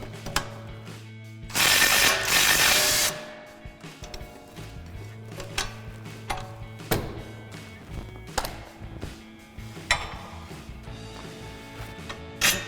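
Wrench work on a 2005-2010 Mustang front strut, with a 13/16 wrench holding the nut as the bolt is loosened: rapid metallic ratcheting clicks, close and fairly loud, with one sustained rough burst near the start.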